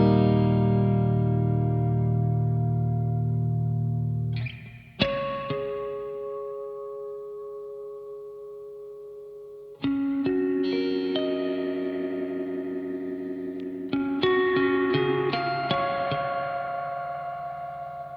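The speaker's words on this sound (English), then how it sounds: "So this is how you dial in your sort of modulation." A Strymon NightSky reverb pedal with its modulation depth turned up, sustained shimmering chords swelling and wavering in pitch, cut off near five seconds, then fresh washy chords restruck at about ten and fourteen seconds, no voices.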